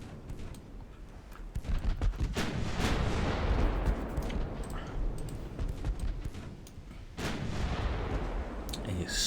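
Naval gunfire from battleship and cruiser guns in the Ultimate Admiral Dreadnoughts game, a series of deep booming salvos and rumbling blasts, loud and overlapping, with no talk over them.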